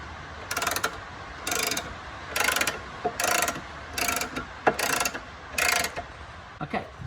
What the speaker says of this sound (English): we'll start ratcheting it up